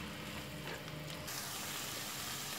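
Tomato paste roasting in a pan over a medium flame, a soft, steady sizzle and bubbling hiss at low volume, close and continuous with no talking.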